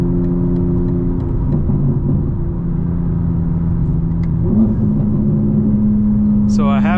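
A 2025 BMW M4 Competition xDrive engine drones at night with active sound design off, a steady close mid-pitched hum and rumble from inside the cabin that shifts slightly, with a brief chirp near the end.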